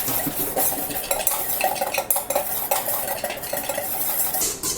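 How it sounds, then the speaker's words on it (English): A whisk beats ingredients together in a bowl for cookie or muffin batter, making a fast, continuous clatter and scrape of metal against the bowl, close and busy with no pauses. "And then we're gonna whisk this together."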